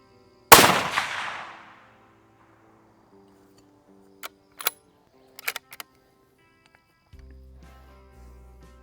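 A single sharp, loud gunshot from a handgun held sideways rings out and decays over a second, followed by a few faint mechanical clicks and quiet handling noise.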